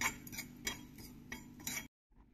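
Fenugreek seeds and asafoetida roasting in a hot kadhai with the gas switched off, close dry rattling and scraping with a few sharp clicks, then cutting to near silence with faint sounds at the end.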